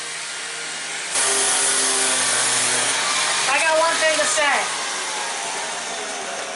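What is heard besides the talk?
power tool during houseboat renovation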